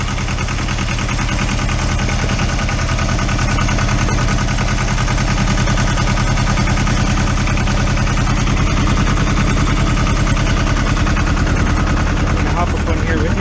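A Yanmar 240D diesel tractor engine runs loud and close, a dense, continuous chugging rumble that holds steady from start to finish without pause.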